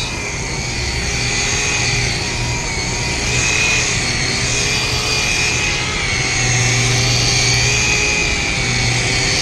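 A rotary polisher with a foam pad buffs a car's clear coat to remove a run, its steady whining motor droning loud and close throughout with slight swells in pitch.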